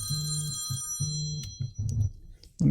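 A temperature alarm on a Raspberry Pi project sounds close by, with a ringing buzzer pulsing in short repeated bursts and an uneven rhythm.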